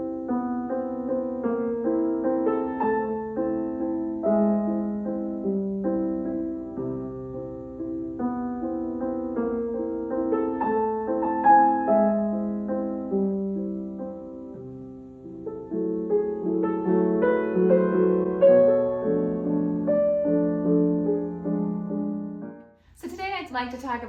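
Solo piano plays Grieg's Notturno, Op. 54 No. 4, from the Lyric Pieces, in flowing, sustained melodic phrases at steady moderate loudness, ending with a brief burst of noise.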